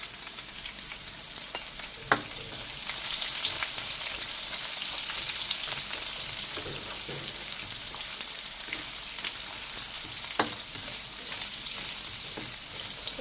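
Garlic and onion sautéing in a pan for chop suey, a steady broadband sizzle running throughout with a few sharp clicks of a utensil against the pan, no voices.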